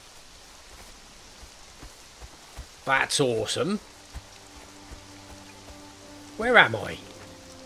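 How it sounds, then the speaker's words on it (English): Steady rain patters across the whole clip in the game Conan Exiles as a soft, even hiss, while a person speaks briefly twice over it. "It's raining."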